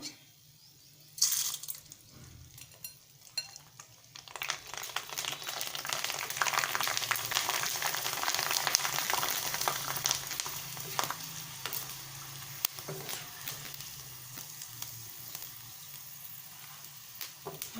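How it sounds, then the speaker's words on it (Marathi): Sago pearls fry in hot oil with a steady, busy sizzle that bursts in loudly after a short quiet start, then crackles continuously with small pops and stirring, fading somewhat toward the end; no talking. "हा आपला हात साबुदाणा तळला जातो"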